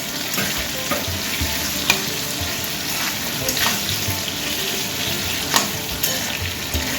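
Chicken pieces and chillies fry for chili chicken in a pan, giving a steady, close sizzle with occasional sharper crackles and stirring scrapes, continuous throughout without talk.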